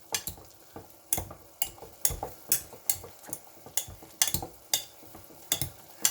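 Boiled potatoes being mashed with butter in a pot, a steady rhythm of close, sharp squelching strokes and clinks, about one every half second, with no talk.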